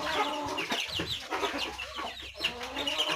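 Aseel fighter-breed chicks cluck and peep continuously at close range, a busy overlapping chorus of chirps with some low farmyard background and no speech.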